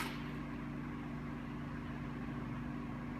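A 2004 BMW 645Ci coupe's 4.4-liter, 325-horsepower V8 idles through chrome exhaust tips, giving a steady, low, even rumble close by, with no talking.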